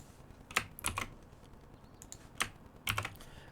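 Keys are typed on a computer keyboard while Python code is written: a few sparse, quiet clicks and taps in short bursts with pauses between them, close by in a quiet room.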